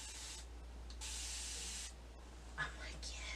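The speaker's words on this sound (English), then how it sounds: "I love this spray bottle." Water misted from a spray bottle onto washed hair, heard as a few soft hissing bursts, each lasting about a second, separated by short gaps and close to the mic.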